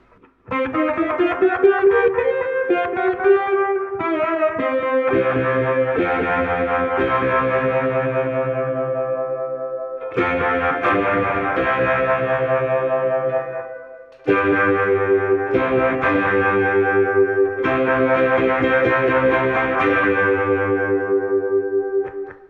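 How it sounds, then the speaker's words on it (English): A plucked ukulele played through phaser, delay, overdrive, compressor and reverb rings out in long sustained chords, thick with swirling modulation, echoes, distortion and reverb, pausing briefly between phrases. "a little bit of phaser, delay, overdrive, compressor and reverb"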